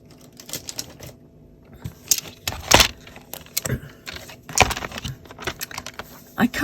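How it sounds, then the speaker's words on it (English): A paper trimmer slices a piece of card for a handmade Stampin' Up greeting card, giving close clicks, rattles and scraping slides of the blade in irregular bursts. "then to make the base, I put this piece on my trimmer."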